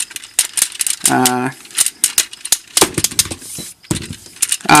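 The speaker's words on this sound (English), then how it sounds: "So a lot of clicks going on down here. Lots of clicking." The swiveling plastic joints of a Power Rangers Megaforce Gosei Ultimate Megazord toy make dense bursts of sharp clicks and ratcheting snaps, loud and close, between stretches of someone talking.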